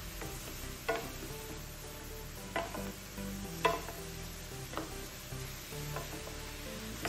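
Vegetables with a pinch of salt sauté in a pan for cornbread stuffing, giving a steady soft sizzle broken by occasional clicks and scrapes of stirring, with no talking.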